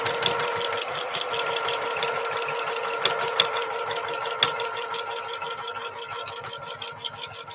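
A sewing machine stitches quilt pieces along a quarter-inch seam for a 4 Star General quilt, with fast, even needle chatter and a mechanical hum running close and continuous throughout.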